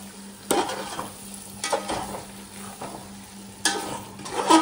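Chicken masala with tomatoes being stirred in a pan, giving a few bursts of scraping and sizzling at irregular intervals over a low steady hum.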